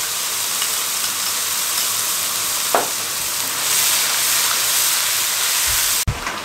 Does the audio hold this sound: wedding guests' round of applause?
no